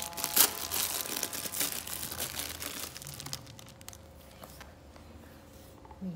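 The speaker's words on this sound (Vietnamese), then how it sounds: "tháo gói đường trước của mình nhé" Sugar packet torn open by hand in a kitchen, a close burst of crinkling and ripping plastic in the first seconds, fading into quieter rustling and then near silence.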